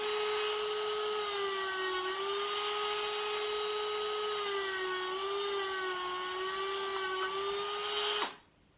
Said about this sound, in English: So I Dremel the O-ring a bit.